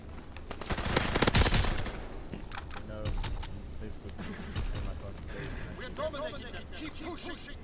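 Orso SMG fire in a video game, a loud crackling burst near the start followed by scattered shots and mechanical clatter, with voices murmuring underneath.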